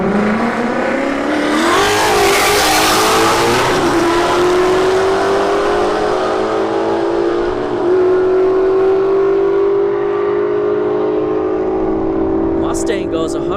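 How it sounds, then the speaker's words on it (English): Two muscle cars, an S197 Ford Mustang and a 392 Dodge Scat Pack Charger, drag racing at Bradenton Motorsports Park: a loud engine roar rises as they launch and hold a steady high-pitched drone while accelerating down the strip, with crowd talk underneath. "S197 Mustang and a 392 Scat Charger"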